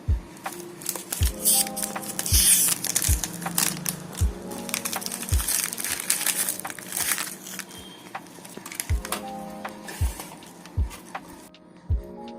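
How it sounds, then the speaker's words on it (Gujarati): Oreo biscuits are pulled from their crinkly plastic packet, with rustling and crackling wrapper sounds and a series of soft thuds as each biscuit is set down in a kitchen. "તો આપણે સૌથી પહેલાં આ પેકેટમાંથી બિસ્કિટ કાઢી લઈશું."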